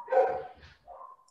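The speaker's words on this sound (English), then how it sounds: "I hope no one can hear those dogs." Dogs bark faintly in the background: one short burst of barking, then a brief whine, heard quietly and at a distance, with no talk.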